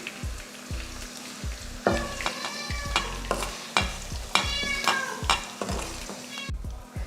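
Okra sizzles in hot oil with salt, a steady close frying hiss broken by repeated sharp scrapes and clinks of a utensil stirring the pan.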